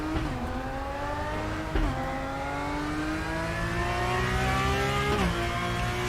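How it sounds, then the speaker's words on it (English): A Porsche Cup race car lapping Silverstone in the RaceRoom sim racing game, its engine revving steadily up through the gears with quick shift dips, loud and continuous with no talk. "Right, Porsche Cup car then, at Silverstone."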